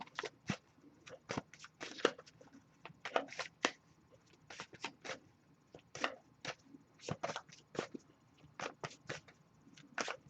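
Tarot cards are shuffled close by in quiet surroundings, giving a steady run of soft, crisp riffling clicks and flicks in irregular bursts with no talking.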